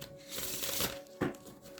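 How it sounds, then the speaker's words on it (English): Tarot cards riffle and slap together in a soft shuffle, a crisp burst near the end, with a faint steady hum underneath. "Let me get you some good shuffles in,"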